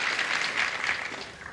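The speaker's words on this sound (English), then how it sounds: "Don't applaud till I finish my routine" A studio audience on a television game show bursts into steady, dense applause that fills the whole short moment and eases slightly toward the end, with no voices standing out.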